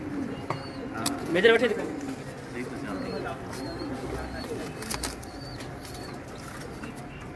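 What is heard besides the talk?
pigeons cooing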